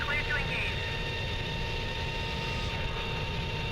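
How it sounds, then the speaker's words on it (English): A friendly MiG jet in the flight sim Strike Fighters 2 roars as a steady, loud engine drone with a dense low rumble and a thin whine on top, unbroken throughout. "I heard a friendly MiG zoom by."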